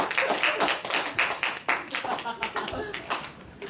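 Audience clapping for a speaker at a speech evaluation session, a steady patter of many hands close by, with voices murmuring underneath.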